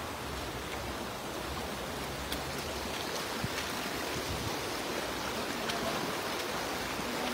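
A strong river current at night rushes in a steady broadband wash of flowing water, continuous and fairly faint, with no voices.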